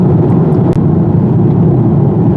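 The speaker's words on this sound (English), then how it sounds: "then why do we have all this road noise coming up inside the vehicle at the moment?" Road noise inside a moving BMW 2-Series on run-flat tires: a loud, constant low rumble and roar filling the cabin without a break, with no talking.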